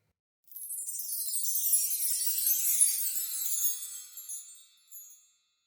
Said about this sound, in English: One is the wind chimes,